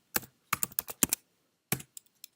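Keys clatter on a computer keyboard while a command is entered for a Python Flask project, with irregular bursts of crisp clicks, several quick taps clustered together and then a few sparse strokes after a pause, nearby and with no talking.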